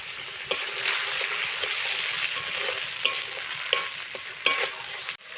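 Chopped tomato goes into spice masala frying in a pan, giving a continuous close sizzle broken by several sharp stirring scrapes and knocks, with no voices.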